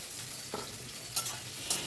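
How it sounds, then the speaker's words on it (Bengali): Chopped onion is stirred into a hot pan for dal tadka, giving a soft continuous sizzle with a few brief scraping clicks from the spoon. "দিয়ে একটু নাড়াচাড়া করে নেব"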